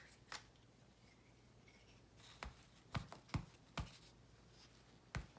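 Scissors snipping around a small paper bicycle picture for a mixed-media collage, a handful of sharp close cuts spaced irregularly over a quiet room hiss.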